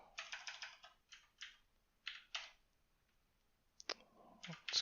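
Typing on a computer keyboard in quick bursts of clicky keystrokes separated by short pauses, faint and close, ending with a few heavier key presses.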